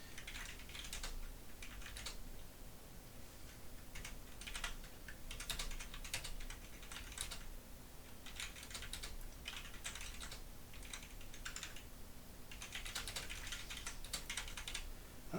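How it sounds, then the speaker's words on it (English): Someone types on a computer keyboard in steady bursts of quick, light key clicks separated by short pauses, close up and fairly quiet against a faint background hum, with no talk. "if I can type correctly"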